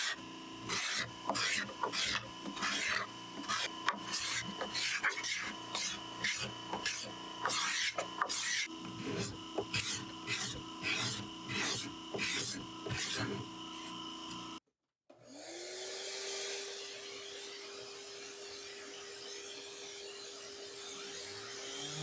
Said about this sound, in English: Just use some 220 grit here to sand back the mess from the binding gaps.